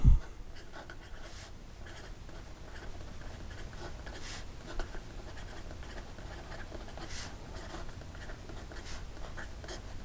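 A Leonardo Momento Zero fountain pen with a number 6 nib writing on paper, a soft continuous scratchy glide with faint periodic strokes, close and quiet, alone without speech.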